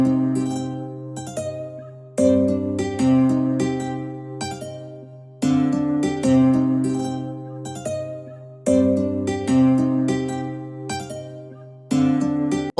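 A drill beat's chord and melody pattern plays alone, sustained full chords that restart every few seconds in a looping phrase, with a brighter melody line on top and no voices.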